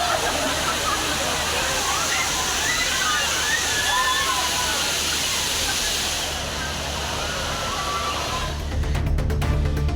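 Aliyar Monkey Falls on the Valparai road roars as a steady, dense wash of falling water, with faint splashing and indistinct voices of families and children bathing beneath it.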